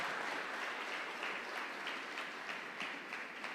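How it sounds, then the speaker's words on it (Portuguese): Church congregation clapping together in worship, a steady wash of applause heard faintly and evenly throughout. "aplauda ao Senhor"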